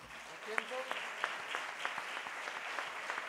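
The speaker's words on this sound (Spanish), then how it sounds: "El aplauso para él." Audience applause for a flamenco guitarist at the Festival Flamenco de Gines 2017, a steady round of clapping with a few sharper claps and faint voices mixed in.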